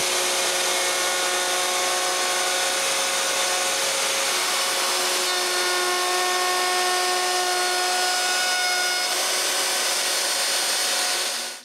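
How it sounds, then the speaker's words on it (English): An electric router cuts a new cove into an old wooden bed post with a sustained, loud, high whine close by. The sound holds steady throughout and cuts off at the end. "Then I route a new cove."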